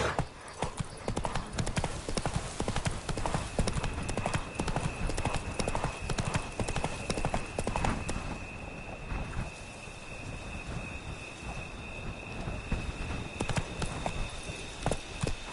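Roach the horse gallops in The Witcher 3's Blood and Wine expansion, with rapid hoofbeats pounding continuously and close up, easing slightly partway through, while rain and distant thunder rumble behind.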